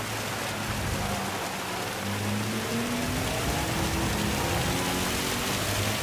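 Steady rain hisses throughout a Gran Turismo 7 race, with a low car engine tone rising and shifting beneath the constant wash of spray and drops.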